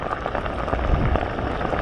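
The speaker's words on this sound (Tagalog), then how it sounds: "Lalong lumakas po ang ulan." Heavy rain pouring down outdoors near water during fishing, a dense, steady hiss of drops hitting surfaces without pause, loud and close.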